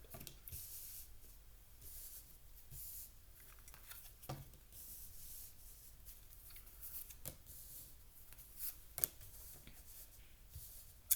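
Tarot cards are shuffled and laid out in a quiet room, giving soft continuous rubbing and sliding with occasional sharp snaps and taps, faint and close.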